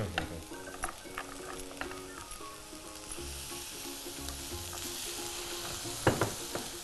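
Mixed vegetables and spices sizzle as they fry in a pan, with a spoon stirring and scraping in steady bursts, close and moderately loud, with no talking.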